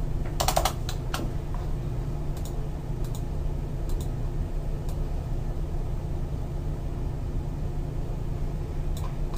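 Text is typed on a computer keyboard in a map layout program, quick soft key clicks in short bursts over a steady low hum, fairly close and with no talking.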